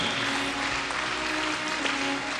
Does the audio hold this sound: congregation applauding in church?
yes